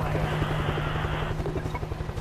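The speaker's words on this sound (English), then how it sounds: "Is that a helicopter?" A military helicopter in the zombie shooter World War Z, Moscow level, gives a steady, loud rotor chop with rhythmic thumping over a low droning hum that runs throughout.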